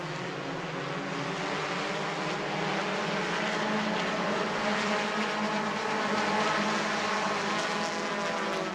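Bomber A class race cars at New Smyrna Speedway roaring together at the start of a race, a dense continuous engine drone that swells gradually and stays loud throughout, with no talk over it.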